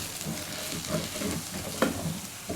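Chicken pot pie filling sizzles steadily in a pan while being stirred, with soft scraping strokes and a brief sharper clatter near the end, all close and continuous with no talking.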